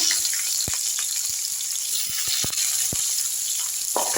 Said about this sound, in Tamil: வதக்கி விட்டுடலாம் வெங்காயம் வதக்கிடலாம்